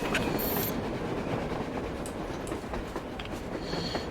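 Train running on the surface in Metro Exodus, a continuous mechanical rumble with clattering and clicking of wheels and wagons, close and steady, with bright metallic squeals above.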